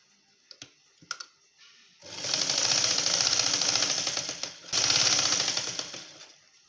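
A sewing machine stitches a prince cut blouse in two fast, steady bursts of rapid mechanical clatter, separated by a brief pause and preceded by a few isolated clicks and knocks, close and fairly loud.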